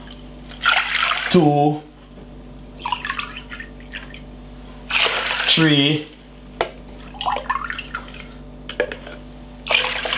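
Water is poured from glasses into a pot to cook Jamaican rice and peas. Two splashy pours come close and loud, with gurgling as the vessel empties, and a man counts aloud between them.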